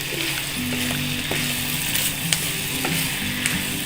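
Pasta with chicken mayonnaise and seekh kabab sizzles loudly in a hot pan while a utensil stirs it, with steady scraping and occasional clicks over the constant frying hiss.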